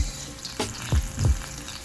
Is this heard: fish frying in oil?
yes